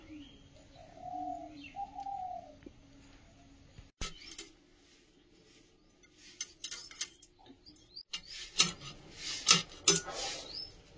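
In fog, a dove coos softly at first, then scattered bird chirps and tweets come and go amid faint clinks and light background noise.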